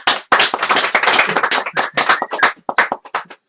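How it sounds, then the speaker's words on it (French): A few people clap in a small radio studio, sharp close claps in an uneven rhythm with brief pauses, loud and dry, no voices over them. "je veux qu'on applaudisse Soge pour son premier passage."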